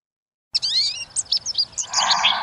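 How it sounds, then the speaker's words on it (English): Bright, quick bird chirps and tweets in a busy chattering series, close and fairly loud, with no voices. "So you'll also hear a lot of different chattering and tweets as well."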